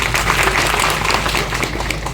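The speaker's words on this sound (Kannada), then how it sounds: "ಎಲ್ಲ ಪದಾಧಿಕಾರಿಗಳಿಗೆ ಒಂದ್ಸಲ ಜೋರಾಗಿ ಚಪ್ಪಾಳೆ ತಟ್ಟೆ" Audience applause at a foundation-stone ceremony in Arasikere, a dense, steady wash of clapping from a crowd that holds fairly loud through the whole stretch, with no break.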